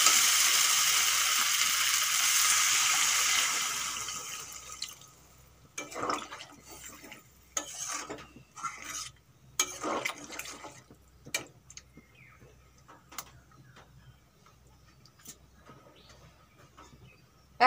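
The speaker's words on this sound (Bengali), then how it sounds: "এখন দিয়ে দেবো জল।" Water is poured into a pan of frying mixed vegetables during home cooking of a Bengali vegetable curry, first a steady loud gush and sizzle, then scattered clinks, stirring and splashes that gradually fade.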